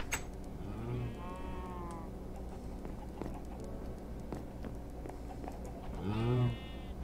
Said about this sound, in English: Could use some more moo cows.